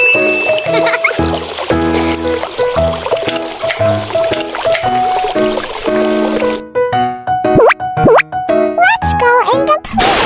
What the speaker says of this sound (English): Let's fill the pool with water.